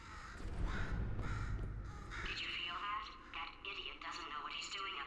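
A crow caws repeatedly in a video game, harsh rhythmic calls sounding in the second half while a person talks over the earlier part.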